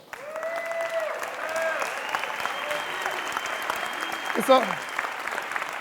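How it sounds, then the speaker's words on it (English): Audience in a seminar room breaks into sustained applause, a steady moderate clapping that carries through the whole stretch, with a brief louder burst near the end. "Give Bobby a round of applause."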